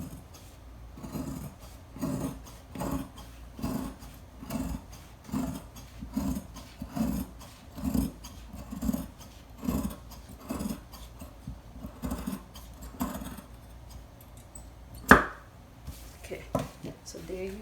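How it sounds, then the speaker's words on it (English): Scissors cutting out a fabric circular flare sleeve pattern, a regular series of soft snipping crunches repeating roughly every second, close by, ending with a single sharper clack. "so I'm going to cut this out."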